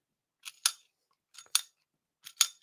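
A small fixed-blade work knife's folding-style action clicks through three quick snap pairs spaced about a second apart, each a faint tick followed by a sharper crisp click, alone in a quiet room.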